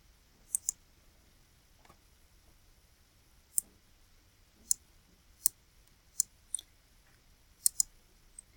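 Computer mouse clicks, sharp and close, coming singly or in quick pairs at irregular intervals over a quiet background.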